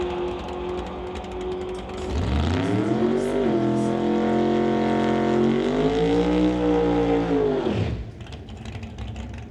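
A drag race car launches and makes a single pass down the drag strip in the tower-side TCS lane at Mission, BC. The engine roars loud and close for about six seconds with a rising, shifting pitch, then cuts off sharply.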